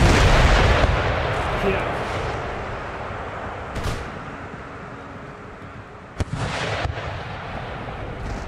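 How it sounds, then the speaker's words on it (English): Artillery fire in the strategy game Empire: Total War, booming cannon shots with a heavy rumble at the start and sharp cracks later, over battlefield noise while someone speaks briefly. "Devastating amount of artillery fire."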